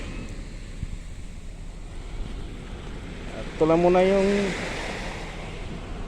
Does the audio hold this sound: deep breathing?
no